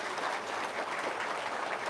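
Audience applause in a talk about life problems, a steady wash of clapping that holds evenly throughout with no pauses or voices over it.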